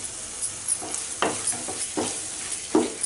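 A spoon stirs masala with jaggery in a hot pan, giving a steady sizzle and repeated scraping strokes at an uneven pace, close and clear with no talking.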